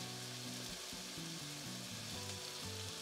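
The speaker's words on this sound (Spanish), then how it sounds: "agregar los nopales para dejarlos freír un poco aquí también" Nopales (cactus paddles) fry in a pan with a steady sizzle and the scrape of stirring, close and alone.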